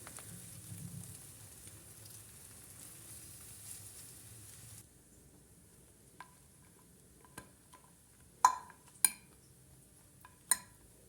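Egg-dipped bread fries in a pan with a quiet, steady sizzle, followed by a few sharp clinks of a utensil against the pan.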